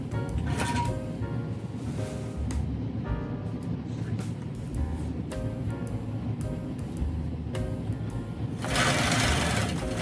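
A longarm quilting machine hums steadily while basting a quilt from the bottom up, its motor running close and continuous with a slight lift in loudness near the end.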